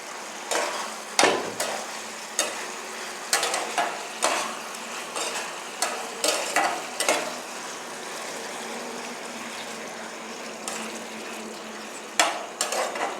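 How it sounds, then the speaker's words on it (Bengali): Chicken sizzles and is stirred in sauce in a pan for homemade chowmein, with repeated scraping and clattering strokes of a spoon against the pan over a steady, fairly close hiss. "আগে ভালোভাবে এটা কষিয়ে নিই।"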